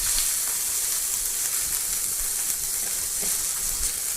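Onions and green peppers frying in a pan, a steady, close, hissing sizzle that continues throughout with a few faint clicks of stirring.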